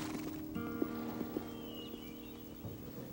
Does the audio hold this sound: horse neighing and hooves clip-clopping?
yes